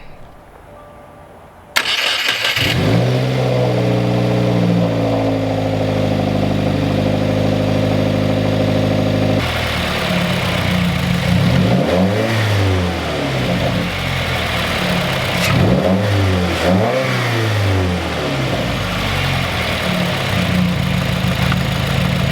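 A Subaru WRX fitted with a green aftermarket air filter cranks and starts, idles high with a steady tone, then revs repeatedly in rising and falling swells, loud and close, with the intake rushing between blips.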